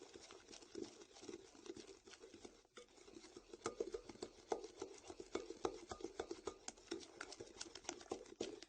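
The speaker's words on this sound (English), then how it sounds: "Actually, it's good with a mixer, but I'm using my wooden spoon here." Doughnut batter mixed by hand with a wooden spoon in a bowl, producing faint, continuous patting, stirring and scraping strokes, soft and close in a quiet room.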